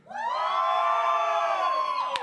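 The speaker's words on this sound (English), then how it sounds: "I need one person to scream at the top of their lungs on the count of three" A single person screaming at the top of their lungs at a live music event, one loud sustained high-pitched yell rising sharply and holding for about two seconds before a brief clap or knock at the end.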